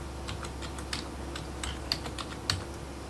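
Someone types a folder name on a computer keyboard: a few light, irregular key clicks, close and clear over a quiet background.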